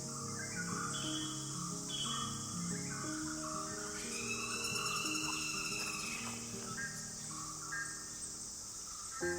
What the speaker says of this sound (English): we could sit and enjoy the sounds of birds